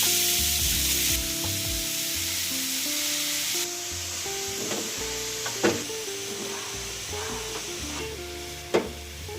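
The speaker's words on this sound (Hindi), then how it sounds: "गैस प्रथमे ऑन करबी, तापरे कड़ाई बसई प्रथमे टिके घी देई गाजर को भाजिबी" Grated carrots fry in ghee in a kadai for gajar halwa, giving a constant close hiss of sizzling with a few light knocks and scrapes of the spoon against the pan.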